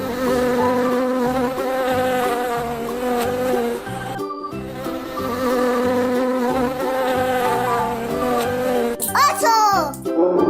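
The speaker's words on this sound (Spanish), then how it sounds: "Abeja." A bee's steady buzz drones on under upbeat children's music, with a short break near the middle and a quick chirpy sound near the end.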